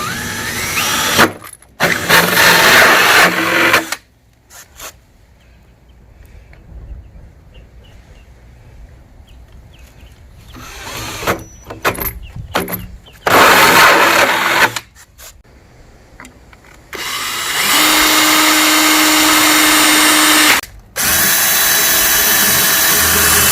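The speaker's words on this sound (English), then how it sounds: "we're going to drill those out with a 2-inch drill bit" Loud bursts of power drilling with a 2-inch drill bit, several separate runs of a few seconds each with quiet gaps between, one long steady whirring stretch near the end.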